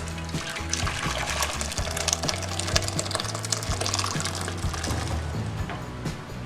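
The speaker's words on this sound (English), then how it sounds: "we're going to transfer the peas into this pot." Cooked stew peas are poured into a pot in a kitchen, giving a continuous wet, sloshing pour with trickling and splashing liquid, close and steady for several seconds.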